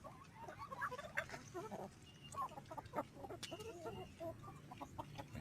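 A flock of chickens clucks and murmurs softly while pecking at refrigerator scraps such as grapes, celery and salsa, a busy scatter of short calls at a quiet level.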